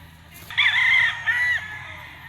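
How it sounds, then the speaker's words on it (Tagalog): A white Kelso rooster crows once, a loud close drawn-out call with a brief break midway, followed by a quieter tail. "White kelso mga tol, cock na to mga tol, naglulugo na."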